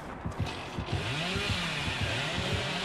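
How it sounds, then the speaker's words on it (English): A chainsaw revs in a video game chase, a steady buzzing drone that surges and dips in quick repeated pulses. It sounds fairly close, with no voices over it. "He's probably going to use his chainsaw."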